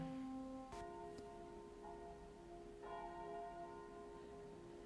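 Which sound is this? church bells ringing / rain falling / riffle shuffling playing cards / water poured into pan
church bells ringing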